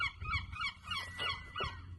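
Seagulls calling outdoors, a flurry of harsh, squawking cries overlapping one another at moderate distance, fairly quiet and continuous for a couple of seconds.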